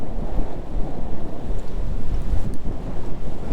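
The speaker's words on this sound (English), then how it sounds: "Yeah, the wind is going to be a bit of a problem today, I think." Steady wind buffets the microphone beside a trout stream, a loud, continuous low rumble with gusty swells and no voices.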